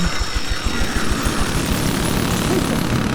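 Rotor thump of a helicopter in the Medal of Honor Warfighter video game, a loud rapid low chopping pulse mixed with steady engine roar that holds throughout.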